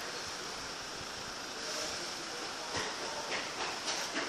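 A train rolling past the St Dunstans level crossing in Canterbury, Kent: a steady, close, loud rushing roar with faint rhythmic clacks of wheels over the rail joints toward the end, and no talk.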